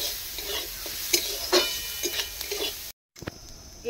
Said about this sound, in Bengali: এটাকে আমি ভালো করে ভেজে নেব।